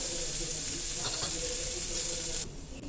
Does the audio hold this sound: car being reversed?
no